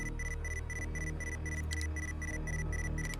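An alarm in the space salvage game Ostranauts, a repeating high electronic beep pulsing in an even rhythm about four times a second over a low steady hum, moderately loud and continuous.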